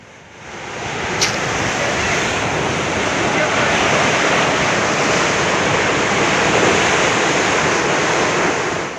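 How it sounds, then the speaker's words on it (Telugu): Water, mixed with escaping gas, bursts up from the ground in the Rajasthan desert, a loud continuous rushing gush that swells in after a quiet first second and then holds steady. "భూమి నుంచి నీళ్లు ఎగిసిపడడం స్థానికులు ఆసక్తికరమైన కథనంగా చెప్తున్నారు"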